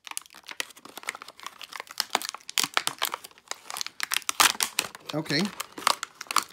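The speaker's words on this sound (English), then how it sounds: "The packaging is already cut right here, so we'll just rip it open." Plastic packaging around a GE 7-watt PAR20 LED silver flood light bulb is ripped open, giving a dense run of crinkling, crackling and tearing up close, with a brief spoken word near the start.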